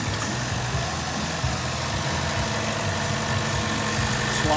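A 2016 Chevy Sonic with a swapped-in engine idles nearby, an even low mechanical hum with slight vibration, steady and unbroken, with no voices over it.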